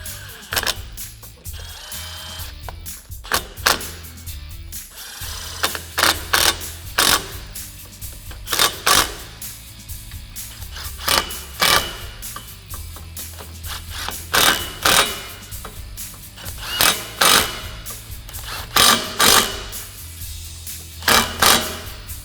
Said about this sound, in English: So now we're going to go ahead and fully tighten our clamps